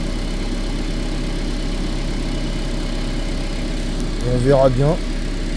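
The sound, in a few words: car engine idling to warm up, radiator test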